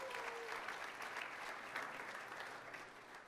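Steady audience applause for a girls' basketball coach of the year finalist at a high school coaches' awards show, fairly faint and continuous clapping with no voices over it.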